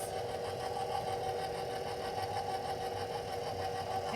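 Electric stand mixer whirring steadily on low speed as dry ingredients are worked into chocolate chunk cookie dough, a continuous close, even motor hum with a faint rhythmic rattle throughout.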